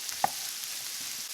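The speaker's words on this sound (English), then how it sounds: "Now we're going to get these going, let them break down, soak up all that pork fat and butter." Green beans cooking in pork fat and butter in a pan, giving a steady, soft sizzle with one brief clink or stir sound early on.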